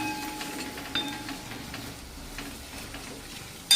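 Masala for an egg curry fries in a pan, a steady, soft hiss close by with faint stirring, ending in a brief louder clatter; no talking.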